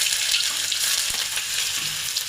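Cloves, ginger and garlic frying in hot oil in a pan, a loud, dense, continuous sizzle with a faint stir or two.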